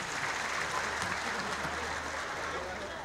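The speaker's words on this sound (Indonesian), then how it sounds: "Tepuk tangan dong." An audience gives steady, sustained clapping at an official event with Indonesia's president, a close, continuous patter that stays at one level throughout.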